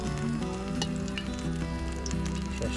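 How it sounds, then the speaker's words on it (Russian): Vegetables and garlic sizzle and fry steadily in a kazan over a fire outdoors in a Siberian pine forest in summer, a constant close crackle with occasional stirring clicks. "Сейчас будем овощи жарить. Чесночком."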